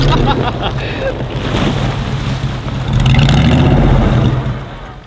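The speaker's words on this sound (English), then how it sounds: "I've had it in four-wheel drive and only two wheels are spinning" A four-wheel-drive vehicle's engine revs as its wheels spin on ice, a rough continuous whir and grind that swells louder partway through, with a voice speaking over it.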